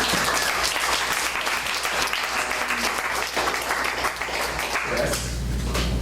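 Audience applause welcoming a speaker to the stage at a Startup Grind talk; a full, continuous wash of clapping from a room of people, steady and moderately loud from start to finish.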